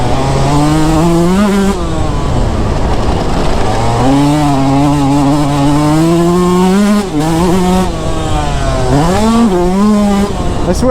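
A Yamaha YZ125 two-stroke dirt bike with a carbureted engine revs loud and close, its pitch climbing and falling through several throttle blips and sustained pulls with no break.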